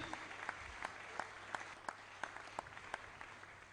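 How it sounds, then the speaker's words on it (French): A church congregation applauding, a dense, steady wash of many hands clapping with a loose rhythmic pulse, heard from within the room and sustained without a break. "Acclamez très fort le Seigneur Jésus."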